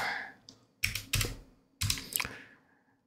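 Typing on a computer keyboard while searching in Windows 11, a few crisp close key clicks in two short clusters separated by quiet gaps, with no talking.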